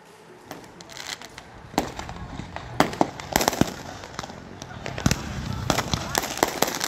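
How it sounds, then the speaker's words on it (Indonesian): Firecrackers bursting during a brawl between two groups of village youths on an empty lot in Banten, Indonesia, with a string of sharp, irregular bangs and crackles, some near and loud, heard under people's voices. "Tawuran dan perang petasan dua kelompok pemuda antar kampung di sebuah lahan kosong"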